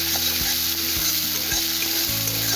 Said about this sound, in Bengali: আমি পনেরো সেকেন্ড মতো ভেজে নেবো